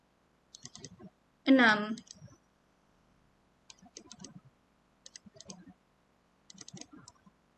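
Mouse clicking while working in IBM SPSS Statistics software: short, crisp clicks in small clusters spaced across the clip, close and quiet, with a brief spoken word between them.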